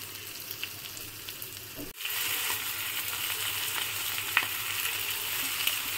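Indian mackerel (bangda) pieces frying in a pan: a steady, close crackling sizzle that rises sharply after a brief drop near the two-second mark and continues with small spits and pops.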